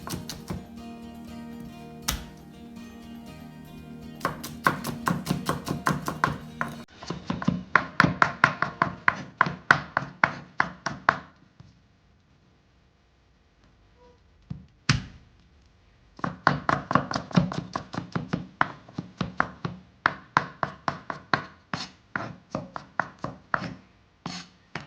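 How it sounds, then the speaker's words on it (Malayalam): A knife chops onion and garlic finely on a board in fast, even runs of sharp close knocks, broken by short pauses and one longer silent gap midway. "അപ്പോൾ ആ സവാള ഇതേപോലെ തന്നെ ചെറുതായിട്ട് നമുക്കൊന്ന് അരിഞ്ഞെടുക്കണം"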